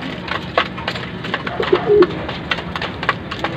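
Pet racing pigeons coo softly and repeatedly while feeding, with close-up pecking taps and wingy shuffles scattered through the short stretch.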